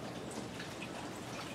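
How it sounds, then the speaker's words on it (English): A hydroponic Dutch bucket system's water pump starts running, with a steady, faint wash of flowing and trickling water and light drips throughout. "I'm gonna turn on the pump,"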